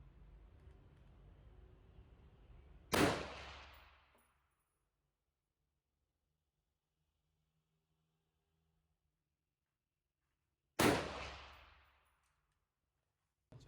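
Two single M4 rifle shots fired at a 50-meter zeroing target outdoors, each a loud sharp crack with a short decaying tail, spaced about eight seconds apart with near silence between.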